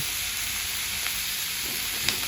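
Ivy gourd frying in a pan with turmeric and salt, a steady close sizzle with a couple of soft stirring scrapes.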